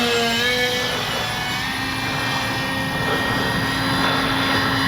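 A Skynetic Dragonfly radio-controlled model plane flies overhead with a continuous whining motor and propeller buzz, steady and fairly close, its pitch shifting slightly as it passes, with no talk over it.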